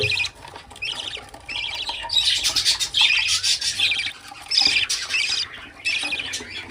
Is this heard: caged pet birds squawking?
yes